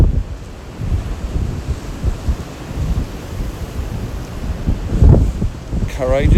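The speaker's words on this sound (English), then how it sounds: "The wind's not helping." Strong wind buffets the microphone outdoors during a live drone flight over the surf, a steady rough roar with gusty swells and a brief low thump near the end.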